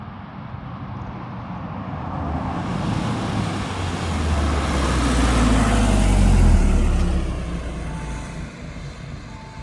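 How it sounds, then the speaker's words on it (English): A Honda Civic Type R on an Appalachian mountain road approaches from a distance, its engine and road roar swelling to a loud peak as it drives past, then fading away. No one speaks. "I think I hear the Type R coming back."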